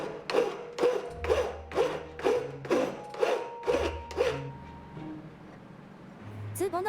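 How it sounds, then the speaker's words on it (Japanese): A hand file scrapes a pickled silver spoon in about ten steady, rhythmic rasping strokes, close and moderately loud, with faint talk and soft tones underneath, then the strokes stop. "細部をヤスリで整えて、スプーンのスクー、ツボの部分を成形していきます"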